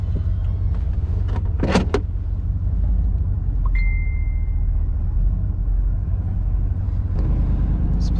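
A giant pickup truck hauling a roughly 40-foot trailer backing up in a tight spot, its engine a steady low idle rumble with a couple of clunks and a brief high whine partway through.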